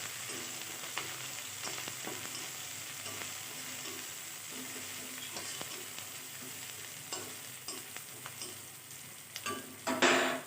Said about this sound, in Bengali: পেঁয়াজটা প্রথমে দেড় থেকে দুই মিনিট ভেজে নেব